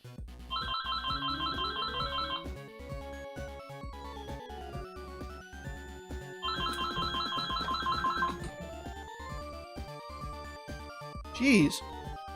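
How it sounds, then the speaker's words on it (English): A phone's electronic ringtone trills in two bursts of about two seconds each, fairly loud against continuous Phantasy Star IV game music. A brief sharper sound follows near the end. "You think you could ring any louder, phone?"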